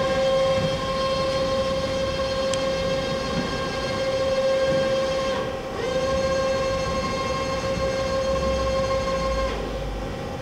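The ram of an AWEA CNC table-type horizontal boring mill with a 30 horsepower, 50-taper spindle travels outward, giving a steady, faint, tonal motor whine with a short dip partway through.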